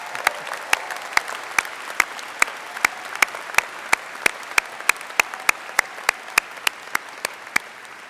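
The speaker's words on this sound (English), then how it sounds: "Now you can clap." Rhythmic, evenly spaced clapping rings out at a university convocation ceremony, sharp unison claps at a steady beat over a low crowd murmur.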